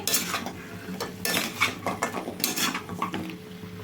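Veg Manchurian being stirred in a pan over a low flame, a utensil scraping and clinking against the metal in an irregular rhythm, close and moderately loud, with no talk.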